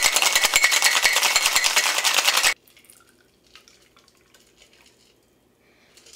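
A gin cocktail is shaken hard in a shaker, a dense, loud rattling burst of ice for about two and a half seconds that stops abruptly, leaving faint clinks and quiet handling sounds.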